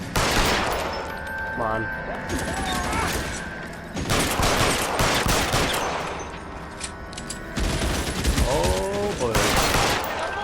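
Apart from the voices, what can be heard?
gunfire in the video game L.A. Noire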